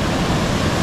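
A swimmable waterfall in Samoa gives off a steady, dense roar of falling water, close and unbroken for under a second.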